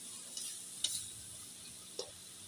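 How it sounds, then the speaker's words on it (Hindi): Eggs frying in a pan for a Pakistani omelette, a faint, steady hiss broken by a few sharp clicks of a utensil against the pan. "अभी हम लोग अंडा जो है वो फ्राई कर रहे हैं। ये पाकिस्तानी ऑमलेट बन रहे हैं"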